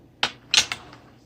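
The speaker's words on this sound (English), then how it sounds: "Use the scissors." Scissors pruning a Delonix regia bonsai: three crisp, close snips in quick succession, the second followed by a softer echoing click, in an otherwise quiet space.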